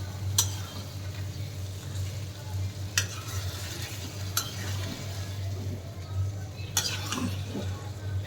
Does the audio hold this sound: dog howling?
no